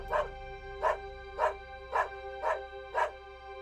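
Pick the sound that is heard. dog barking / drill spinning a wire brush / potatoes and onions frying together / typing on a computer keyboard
dog barking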